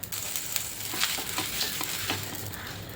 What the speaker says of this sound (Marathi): आता त्याच्यावर डोश्याचं बॅटर टाकून घेऊया.